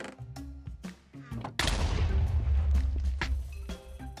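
A grenade goes off in a Minecraft survival multiplayer game, a sudden loud blast followed by a long, rumbling roar. Before it comes a stretch of lighter game sounds and faint speech.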